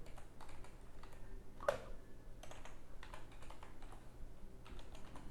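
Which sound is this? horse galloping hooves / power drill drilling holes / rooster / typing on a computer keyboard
typing on a computer keyboard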